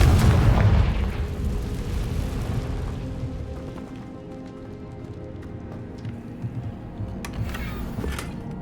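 A Confringo spell explosion in Hogwarts Legacy opens with a loud, deep boom, then fades into a long crackling rumble with faint debris patter. There is no speech.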